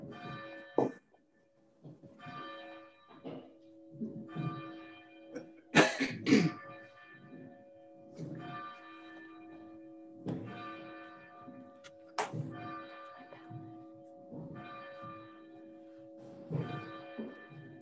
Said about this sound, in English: Beautiful to hear those bells ringing out over our community and across the miles